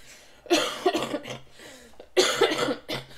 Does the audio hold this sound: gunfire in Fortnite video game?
no